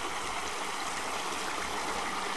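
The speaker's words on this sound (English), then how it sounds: "There's where the water's coming out." Water from a spring-fed pond that has been drained pours out through the pond's drain outlet with a steady, soft rushing and gurgling flow, continuous and fairly faint.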